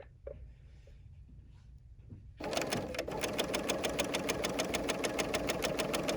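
A Bernina L 850 sewing machine starts up after a quiet moment and stitches a double rolled hem, running steadily with a fast, even mechanical rhythm close by.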